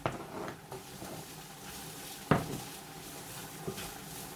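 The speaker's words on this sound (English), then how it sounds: "So into the onions I'm going to add 1 teaspoon of our curry powder. Okay, we'll give this a wee stir about" Onions and a spoonful of curry powder stirred in a pan, a quiet steady sizzle with a few sharp scrapes of the spoon against the pan, one louder knock midway.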